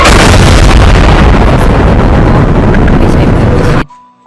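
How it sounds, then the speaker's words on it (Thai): Loud, continuous heavy gunfire and booming blasts from a battleship's big guns, the USS Missouri, roar at close range for several seconds, then cut off abruptly into near silence. "เสียงปืนใหญ่ของเธอกระหน่ำลงบนชายฝั่งศัตรู"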